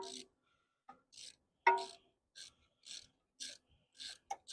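A 10mm ratchet loosening a bolt on a Honda Civic R18 engine gives short bursts of ratcheting clicks in an irregular series, close and fairly quiet, with one louder clack partway through.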